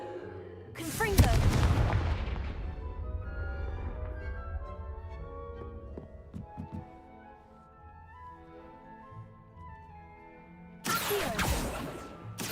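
A Confringo blasting spell explodes in a video game, a loud, close boom whose rumbling tail fades over several seconds, followed later by a second heavy blast near the end.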